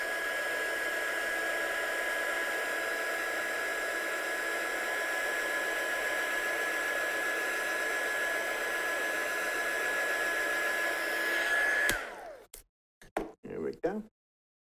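A hair dryer runs loud and steady for about twelve seconds, drying a handmade watercolour and stencilled card, then switches off and is followed by a few light handling knocks.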